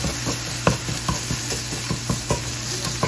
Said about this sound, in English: just going to stir that around for a minute